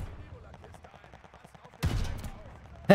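Gunfire in the shooter Call of Duty Vanguard, a scatter of faint distant shots followed by a loud close burst near the end, with a voice speaking over it.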